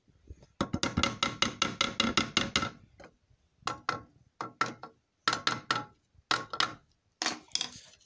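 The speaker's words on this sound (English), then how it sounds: "our little hammer here" A small hammer taps wood as a comb honey frame is driven into its groove: a quick burst of about ten sharp knocks, then clusters of two to four taps with short pauses, close and alone.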